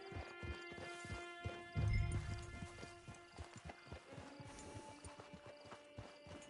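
Horse hooves trotting in the video game Red Dead Redemption 2, a steady rhythmic clip-clop of hoofbeats at moderate distance, fairly quiet, with a brief louder thump partway through and no clear talk.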